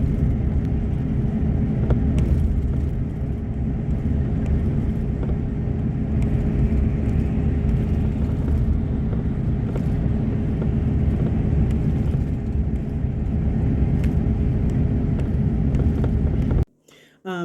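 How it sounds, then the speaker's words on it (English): Bus ride from Punta Cana to Puerto Plata in the Dominican Republic, a steady loud low engine and road rumble drone running almost throughout, cutting out abruptly near the end, with speech under the noise. "So this was our trip from Punta Cana to Puerto Plata by bus."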